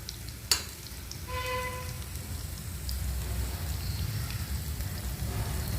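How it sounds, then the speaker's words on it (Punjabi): Cumin seeds hit hot oil after a sharp click, and a soft, steady sizzle builds and continues close by, with a brief faint beep early on. "ਹੁਣ ਅਸੀਂ ਇਹਦੇ ਵਿੱਚ ਪਾਵਾਂਗੇ ਜੀ ਥੋੜਾ ਜਿਹਾ ਜੀਰਾ"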